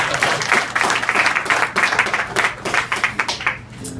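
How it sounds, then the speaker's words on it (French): Concert audience clapping steadily for about four seconds, dense and close, with individual hand claps standing out before it thins toward the end. "On pourrait l'applaudir pendant qu'elle prend la photo."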